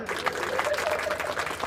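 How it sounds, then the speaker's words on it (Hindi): Audience applause at a Hindi kavi sammelan, a comic poetry recital: a steady, dense wash of clapping from a crowd, fairly loud and continuous throughout with no pauses. "ताली बजाओ।"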